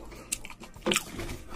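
Crisp bites into a crunchy fried mushroom during close-miked eating: a short crackle followed by a louder, fuller crunch, then soft chewing.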